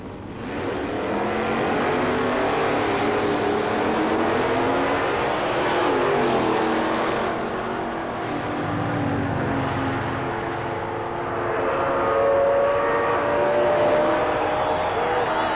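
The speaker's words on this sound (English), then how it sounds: "Craig Miller at the wheel of a 74 Vega raced against Alan Billings driving the Firebird." Drag race in Super Street Eliminator between a 1974 Chevrolet Vega and a Pontiac Firebird, engines roaring loudly and steadily with swelling passes and shifting pitch, heard from trackside.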